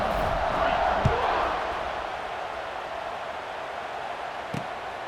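A video game stadium crowd at a college football game roars in the build-up to kickoff: a dense, steady wash of distant crowd noise that eases slightly after the first second and holds, with a couple of faint thuds.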